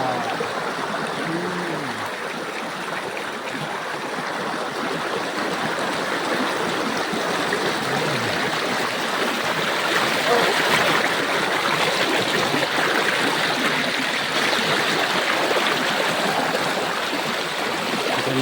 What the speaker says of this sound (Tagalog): Ganda ng ilog.